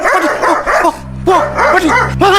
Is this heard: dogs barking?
yes